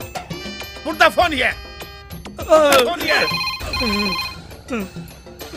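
A phone ringtone repeats steadily and fairly loudly throughout while voices talk over it at close range.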